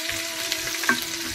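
Garlic sizzles steadily in a pan while browning for pork hamonado, a close, continuous frying crackle with a brief louder scrape near the end and no talk.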